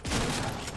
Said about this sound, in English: Double pumping. He shot.